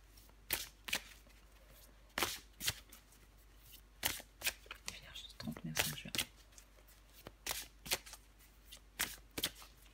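Tarot cards being shuffled and drawn for a weekly Virgo reading, a run of crisp papery riffles and slaps in short bursts, close and fairly quiet, with a voice talking between them.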